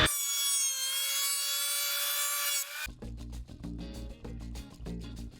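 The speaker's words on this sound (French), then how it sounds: "Le père de Victor est en train d'utiliser une raboteuse pour découper la planche." A thickness planer runs through a plank of marine plywood, a steady high whine with many harmonics that gives way after about three seconds to a rougher, choppy grinding with repeated bursts, loud and close, no talk.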